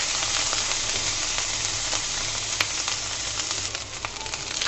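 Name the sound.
small shrimp frying lightly in a pan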